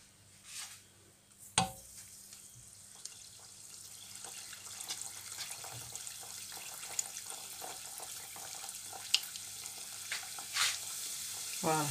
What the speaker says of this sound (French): on démarre la cuisson